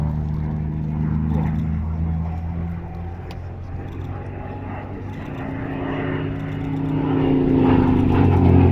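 A Yakovlev Yak-3 UTI airplane fitted with a big American radial engine makes a pass at an airshow, its deep droning roar building louder toward the end, with a commentator talking over it.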